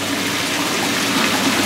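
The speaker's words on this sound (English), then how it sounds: "The air bubbler is bringing the water from down below to the surface." Pond air bubbler and circulating pump churning water, a dense steady rush and bubbling, loud and continuous with no voices.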